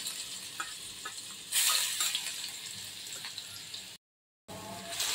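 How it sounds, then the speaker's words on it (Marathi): Ground green chili, garlic and cumin paste hits hot oil with a soft, steady sizzle, a brief louder hiss as it goes in, faint stirring scrapes, then a short cut. "जे आपण वाटून घेतलेले मिरची, लसूण आणि जिरे ते घालायचं आहे त्याच्यामध्ये तेलामध्ये"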